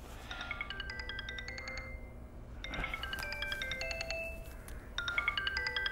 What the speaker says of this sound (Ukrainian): Фрол, телефон